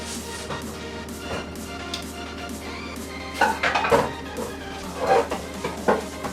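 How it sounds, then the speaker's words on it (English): A wok is pulled out of a home kitchen cupboard, giving a few sharp metallic clanks and knocks clustered in the latter half against a quiet room, with no talking. "can you get me the wok out of the cupboard please?"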